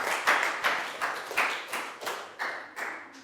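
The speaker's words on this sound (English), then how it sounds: "round of applause" A small group claps for a student after a hopping exercise in a primary school health lesson, a round of separate, rhythmic claps of moderate loudness with no talking.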